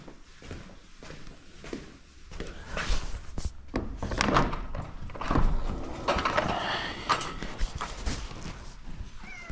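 A cat outdoors near a kitchen gives soft meows amid thumps and clatter from food being prepared, with a person talking at times.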